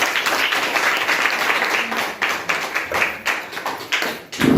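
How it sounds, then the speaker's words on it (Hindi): Loud applause from a seminar audience at a business celebration event, many hands clapping vigorously with uneven surges and a few sharp individual claps standing out toward the end. "ऐसे जबरदस्त पर्सनालिटी के लिए मैं चाहूंगा एक बार पुनः जोरदार तालियां"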